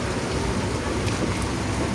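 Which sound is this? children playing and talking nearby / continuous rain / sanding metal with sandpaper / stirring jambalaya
continuous rain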